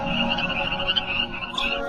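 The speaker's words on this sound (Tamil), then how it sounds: "கூட்டம் கூட்டமாய் தவளைகள்" A crowd of frogs croaks in a dense, continuous chorus, the overlapping calls steady and fairly loud throughout with no voices.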